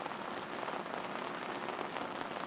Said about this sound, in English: I plan to come when it rains because of this sound.